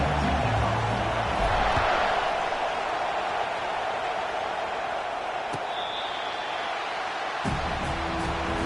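Stadium crowd roaring in an EA Sports College Football video game before a Gators opening kickoff, a steady dense wash of cheering and murmur throughout, with a brief whistle-like tone midway and a low thump near the end.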